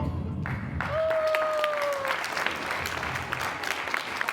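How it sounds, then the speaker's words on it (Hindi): A studio audience at a televised courtroom-style talk show claps steadily, a dense, even patter of many hands that holds for several seconds at moderate volume. "वैसे इतनी तालियां बजाने की जरूरत है नहीं"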